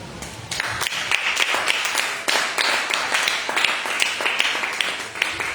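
Steady applause from a church congregation cheering a music group, many hands clapping together with sharp bursts, continuous throughout with no voices standing out.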